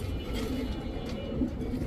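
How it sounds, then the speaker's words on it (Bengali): A female racing pigeon, raced over 150 km, coos softly and low within a farm setting, its murmurs faint and partly buried in steady background noise. "ভাই এটাও রেস করা কবুতর, এটা মাদি।"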